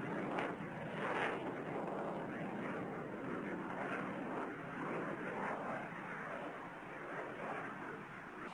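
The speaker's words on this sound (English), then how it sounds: "the aircraft go into the attack" Military jet aircraft roar steadily through an attack run over Serb-held territory during a NATO air operation, a loud, continuous engine rush with a slight swell near the start.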